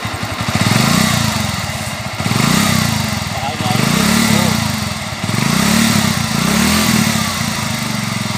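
A Suzuki Shogun Pro 125 motorcycle engine runs rough, its loud, steady near idle throbbing with uneven pulses and periodic swells in revving, heard alone without talk.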